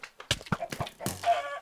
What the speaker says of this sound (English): You have evil giant chickens that try and kill you.